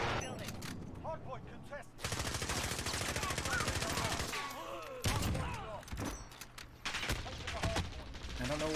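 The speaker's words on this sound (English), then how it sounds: "I don't know where the fuck I'm being shot at from." Gunfire in a video game: rapid bursts of automatic shots and single cracks in several volleys, loud and close, with someone talking between and over them.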